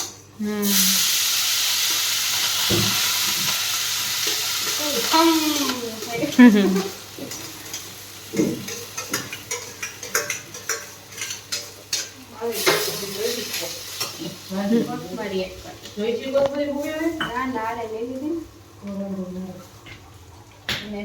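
Rice tipped into hot oil with cumin, hing and mustard seeds, sizzling and hissing steadily while a spoon scrapes and stirs against the pan, with a voice talking intermittently over the frying.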